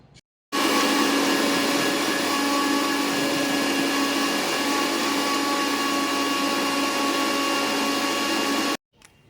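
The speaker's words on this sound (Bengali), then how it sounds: "তো চলো এটা ভালো করে ব্লেন্ড করে নিয়ে আসি।" A kitchen blender whirs steadily while blending pomegranate juice with milk, a loud continuous motor drone that starts abruptly, holds for about eight seconds and then cuts off.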